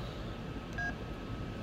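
A single short electronic keypad beep from an LG TracFone flip phone while its calculator is used, a clear tone heard alone over quiet background hiss.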